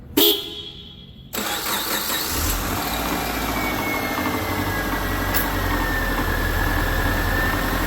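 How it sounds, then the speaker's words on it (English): A Subaru engine with a newly replaced alternator cranks, catches and settles into a steady idle close by, a thin whirring whine from the charging alternator riding over the engine drone. "you can hear that whirring type noise from the alternator actually charging"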